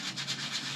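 A brush scrubs a stained hat, giving a steady close scratching rub in short repeated strokes with no talk.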